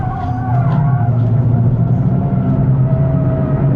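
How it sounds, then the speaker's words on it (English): A 2027 Nissan Z Nismo's engine drones loudly and steadily as it brakes hard from about 110 mph, with a faint tyre squeal on top. "Hard onto the brakes."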